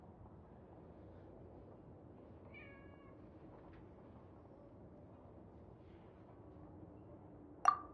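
A big cat meows in a video game quest, faint and brief amid a low steady background hum, followed by a sharp bright clink near the end.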